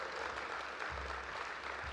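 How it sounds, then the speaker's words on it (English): A crowd at an awards ceremony applauds steadily, a dense, continuous patter of clapping that holds at an even level from start to finish. "Give them another round of applause."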